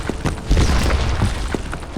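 Explosion in the video game Tank Mates: a deep, loud boom with a rumbling low end, with a few sharper bursts around it over about two seconds.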